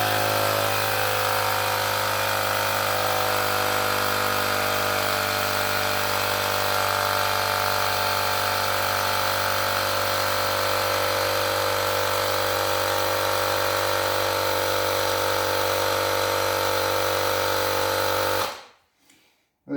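A Ryobi 18V One+ battery tyre inflator pumping up a car tyre, a loud steady mechanical drone with a buzzing whine held close for about nineteen seconds, then abruptly cutting off into near silence.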